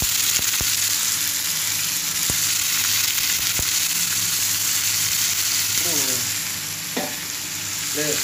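Brinjal pieces fry and are stirred in a hot pan, a loud, continuous close sizzle broken by sharp spoon clanks and scraping against the metal, with a few quiet voice sounds near the end.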